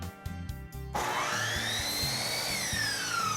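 A miter saw starts up and cuts straight through polyurethane crown molding, a loud steady whine with a rising then falling pitch sweep as the blade passes through, heard close and alone.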